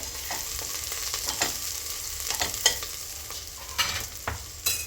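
Onions sizzle in hot oil in a pan while being stirred for tomato bath, a steady frying hiss broken by repeated scraping strokes of the spoon, close up with no talking.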